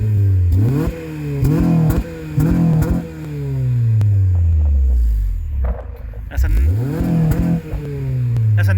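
A Honda Accord Euro R CL7 engine revs through twin exhausts, rising and falling in several sharp throttle blips, then a longer sustained rise, with a deep, smooth note heard up close.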